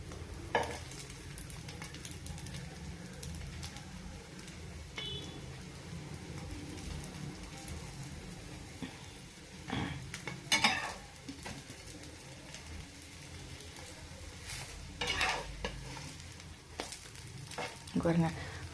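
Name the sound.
food sizzling on a hot tawa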